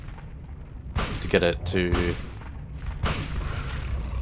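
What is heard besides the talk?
gunshots in Silent Hill video game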